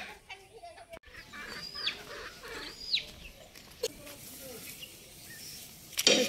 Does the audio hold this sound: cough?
no